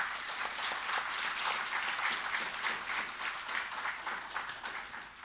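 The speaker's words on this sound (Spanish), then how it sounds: "podemos darnos gran aplauso una vez más," Church congregation at a Bible seminar breaks into strong sustained applause, many hands clapping steadily and fairly close, with a few louder surges.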